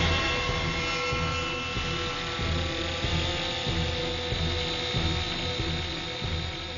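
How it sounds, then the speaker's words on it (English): Steady mechanical whirring and buzzing of a remote-controlled helicopter, loud and continuous throughout, with a faint rattling texture and no voices. "using a remote-controlled helicopter"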